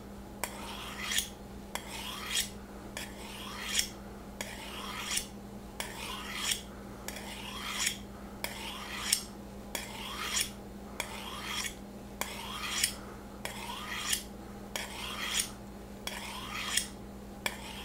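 A chef's knife blade is drawn repeatedly across a sharpener in an even rhythm of about eighteen crisp, rasping strokes, each a little under a second apart, quiet and close over a faint steady hum.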